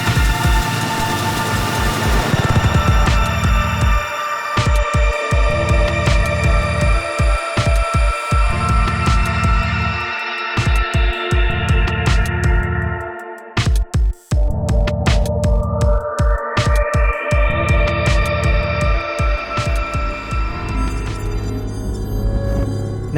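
A dense electroacoustic track built around a layered texture: loud sustained tones with rhythmic pulsing beats, filtered sweeps that fall and then rise, and a brief dropout midway.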